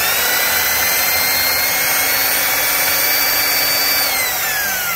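A Makita bench-mounted wood-cutting table saw with a 160 mm blade runs at a steady, loud whine with a constant motor hum, unloaded and continuous, with no talking.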